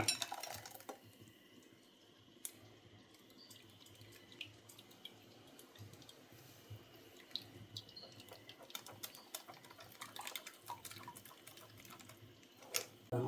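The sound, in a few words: straining blended coconut milk in a kitchen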